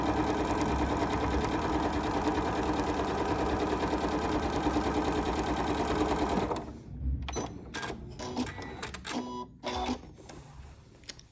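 A Janome MC9450 sewing machine runs a row of quilting stitches with a loud, steady whirring hum for about six seconds. It then stops, leaving faint clicks and fabric handling.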